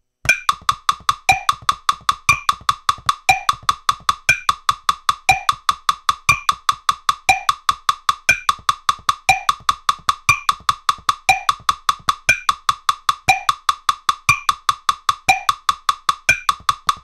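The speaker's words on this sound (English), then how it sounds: "And then we're going to play one bar of the drag tap," Rapid, evenly repeating snare strokes with short grace-note drags before accented taps, a steady rudiment pattern played alone, crisp and close.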